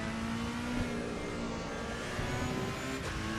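Race car in Assetto Corsa Evo powers out of a corner, its engine holding a steady, loud whine with a rising tonal edge and no pauses, close up and alone.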